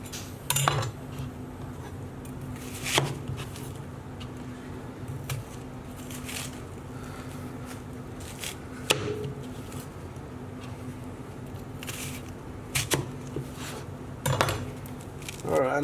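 A knife presses down through a thick onion slice on a cutting board for a blooming onion, giving several separate crisp chops and clicks spaced irregularly over steady low background hum.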